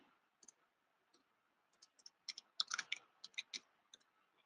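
A computer mouse clicking, giving a scattered run of sharp, faint clicks that bunch into a quick cluster partway through, close and isolated against near silence.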